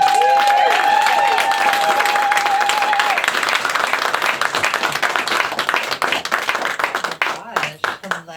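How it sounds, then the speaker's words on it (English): Audience applause and clapping at a stand-up comedy show in a small venue, loud and sustained at first, then thinning into scattered claps as it fades out. "Big round of applause, please, for Jane Tovar!"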